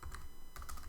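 Fingers typing on a computer keyboard, a quick run of soft clicking keystrokes, close and quiet, with no talking.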